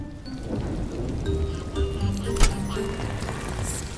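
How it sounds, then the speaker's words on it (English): Steady rain patters and drips in a kids' cartoon about a garage of talking vehicles, a soft wash of drops under light music and faint effects with no voices. "With this rain, we'll need eyes in the sky to find Baby Truck"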